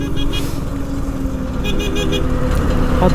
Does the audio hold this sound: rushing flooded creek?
no